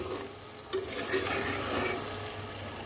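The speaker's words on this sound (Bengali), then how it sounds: "মাংসটা আরও সুন্দরভাবে কয়েক মিনিট কষানো যায়" Spiced country chicken curry being fried and stirred in a pan, with a continuous sizzle and soft scraping from the spoon, close and steady.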